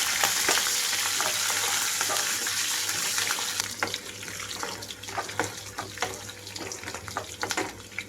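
Mustard seeds, cumin, green chilies and dried red chili pieces crackle in hot oil as a tempering for tamarind rice-rava pulihora, a steady close sizzle that gives way to scattered pops and stirring scrapes, with no talking.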